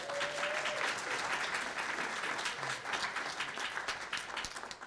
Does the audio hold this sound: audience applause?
yes